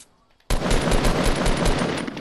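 Rapid automatic gunfire in a third-person shooter game, a brief quiet moment then a sudden dense burst of shots sustained loud and close without pause.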